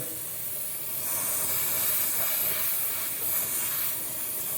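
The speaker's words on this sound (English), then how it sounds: "I completely forgot to tighten this fitting. So it is blowing." Steady, airy hiss of compressed air escaping from an untightened PEX pipe fitting on a model railroad, continuous and fairly close, with no talking.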